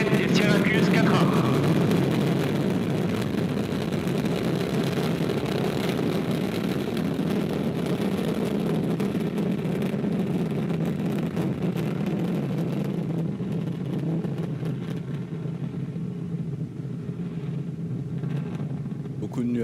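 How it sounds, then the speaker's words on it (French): Ariane 5 liftoff with the Vulcain main engine and two solid boosters igniting, a loud, steady, broadband roar and rumble that fills the whole stretch and fades slightly toward the end, with commentary voices faintly underneath. "Allumage moteur Vulcain. Allumage des deux EAP et décollage VA255"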